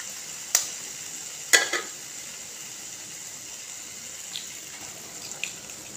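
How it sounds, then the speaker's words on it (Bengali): Egg frying in oil in a pan for a simple egg khichdi, a faint steady sizzle with two sharp taps near the start and a few soft ticks later. "এই তেলেতেই ডিমটা আমি ভেজে নেব"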